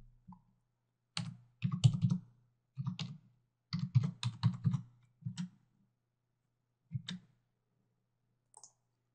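Someone types a password on a computer keyboard while setting up FTP access, close and clear, in short bursts of quick key clicks separated by pauses.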